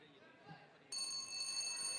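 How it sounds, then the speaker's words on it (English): A ring bell signals the start of the second round in a Muay Thai bout at a military championship semi-final, a sudden sustained metallic ringing that cuts in midway over a steady murmur of arena crowd noise. "there goes the bell for the second round."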